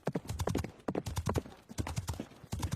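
Cartoon horse hooves clip-clopping in an animated comedy, a quick, close run of sharp hollow clops in uneven rhythm, loud and steady throughout.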